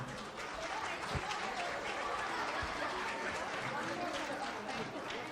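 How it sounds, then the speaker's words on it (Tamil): An audience at a school Pongal festival applauds third-grade students after they demonstrated a sung game, the steady clapping and crowd noise sustained throughout with a general murmur beneath. "மூன்றாம் வகுப்பு மாணவர்களுக்கு ஒரு பெரிய கரகோஷம் கொடுக்கலாம்"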